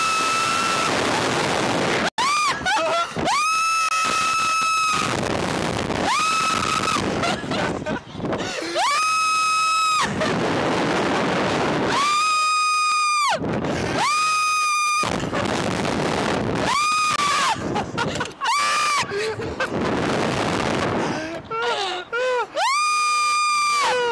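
People screaming on a slingshot amusement ride, loud repeated shrieks in long bursts with short breaks between them, over strong wind rushing across the microphone.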